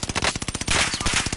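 Rapid automatic gunfire in a video game, a loud steady burst of fast repeated shots with no pause.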